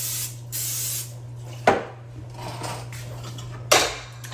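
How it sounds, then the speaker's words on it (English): Ordinary pan spray hissing into cake pans in a farm kitchen in several short bursts, close and crisp, with a couple of sharp metallic clanks of the pans being handled. "Then I just take the regular pan spray and I just go around."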